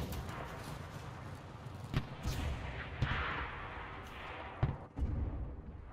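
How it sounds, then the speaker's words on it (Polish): Tank or artillery fire booms in the World War II shooter game Enlisted, with several muffled, distant-sounding blasts spaced a second or so apart over a low rumbling battlefield background. "To są chyba strzały czołgu albo artylerii."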